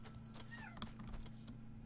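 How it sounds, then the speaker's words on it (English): A domestic cat gives a faint meow at some distance, set against a steady mechanical hum and background noise, with no talking. "There's my cat."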